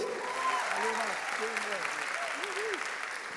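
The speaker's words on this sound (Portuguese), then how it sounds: "Dá uma salva de palmas aí." A church congregation claps during a service, the applause soft and somewhat distant under a voice that keeps talking over it.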